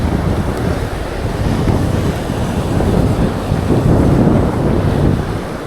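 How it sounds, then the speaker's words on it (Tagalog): Strong wind buffets the microphone in a continuous low roar at the seashore during low tide while fishing, with surf rumbling underneath and no voices. "Medyo malakas ang hangin."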